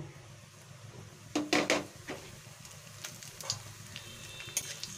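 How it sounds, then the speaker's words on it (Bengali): Dry red chili, whole cumin and bay leaf tempering in hot oil in a kadai, a faint sizzle beneath a few sharp metallic clinks and scrapes of stirring, some louder bursts midway. "এখানে আমি একটা শুকনো লঙ্কা, গোটা জিরে আর তেজপাতা ফোড়নে দিয়ে দিব।"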